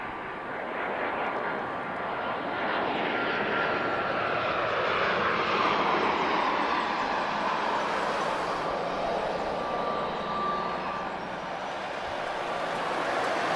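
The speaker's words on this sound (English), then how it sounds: "I hear an A330 starting up" An Airbus A330 at Lisbon Airport spools up its engines, a broad continuous jet roar and whine that swells and sustains at moderate distance, mixed with general airport rumble.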